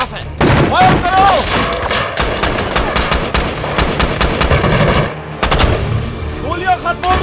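Rapid bursts of automatic gunfire from a Hindi-dubbed military action film crackle loudly and almost continuously, with a short pause before more shots and a voice briefly shouting.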